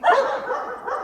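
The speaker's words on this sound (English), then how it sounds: "very noisy dogs" Dogs bark in a Ukrainian mountain village, a short close burst of yapping, whimpering barks lasting about a second, heard alone with no talk.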